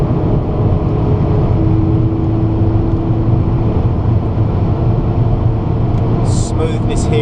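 A car lapping Goodwood Circuit, its engine droning steadily and loudly throughout, with wind and road rumble and no audible talk.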